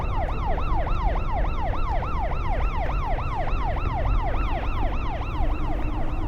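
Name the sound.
police siren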